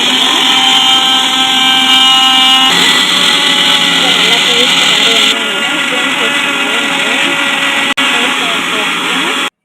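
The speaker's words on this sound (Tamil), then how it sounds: "எல்லாத்தையும் எடுத்து நம்ம மிக்சியில் கிரைண்ட் பண்ணி" A kitchen mixer grinder whirs loudly and steadily while blending mushroom biryani paste, its motor pitch shifting slightly mid-run before cutting off abruptly near the end.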